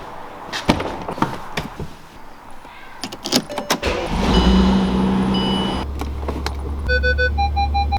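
A talkative car starts up: a few clicks and key jangles, then the engine cranks and catches into a steady low idle while electronic chimes and tones sound over it near the end.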